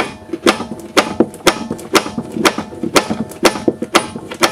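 Large hammer lightly tapping an Audi A4 B5 control arm down into the steering spindle, a run of sharp metallic knocks at an irregular but steady pace, close and loud.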